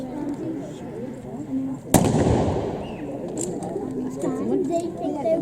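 A sharp gunshot rings out at a battle reenactment display in Blaenavon, as a German defender loads his last rounds, followed by a dense rumbling wash of crackle and echo, then lighter scattered pops over faint outdoor background.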